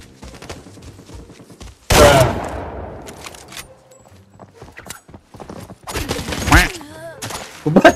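Gunfire in the shooter game Arena Breakout, loud sharp bursts of shots and rapid fire with clattering impacts and scattered footsteps between them, players talking over the action.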